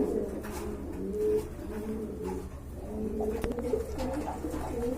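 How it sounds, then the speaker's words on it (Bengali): A pair of red Danish pigeons coo softly and repeatedly at close range, low rolling calls over a quiet background with no talk. "ভিউয়ার্স এক জোড়া ড্যানিশ কবুতর দেখতে পাচ্ছেন"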